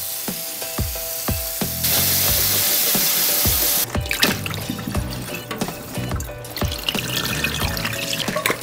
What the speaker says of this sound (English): So we're gonna soak these and get all of that stuff out.